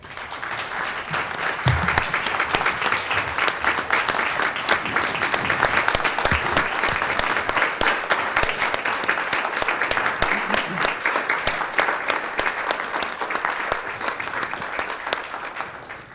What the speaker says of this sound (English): let us recognize Gene's career and give him a round of applause